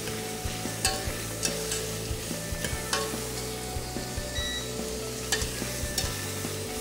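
Shellfish shells roasting in a hot pan, a soft steady sizzle broken by repeated clacks and scrapes of a utensil stirring the shells, close by.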